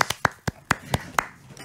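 A few people in a radio studio clap in a slow, steady rhythm of about seven sharp, close claps spaced roughly a quarter second apart, as if keeping time for a live song.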